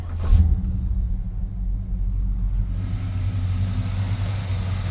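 A 1966 Oldsmobile Delta 88 V8, freshly restored and running on 30-year-old gas with the motor not yet bolted to its mounts, idles with a steady low rumble after a brief louder burst at startup.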